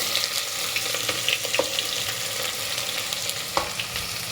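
Kashmiri chillies and onion with garlic fry in a hot pan, a steady close sizzle running throughout, with a couple of sharp stirring clinks of a utensil against the pan.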